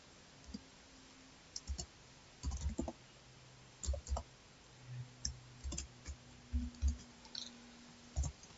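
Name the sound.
typing on a computer keyboard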